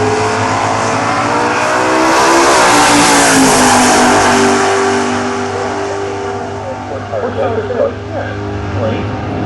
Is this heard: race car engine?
yes